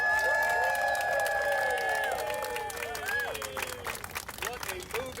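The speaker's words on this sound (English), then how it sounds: "Let's give our mayor a big round of applause." A crowd at a sculpture unveiling claps and cheers loudly for the mayor, with whistles and voices over dense applause that thins slightly toward the end.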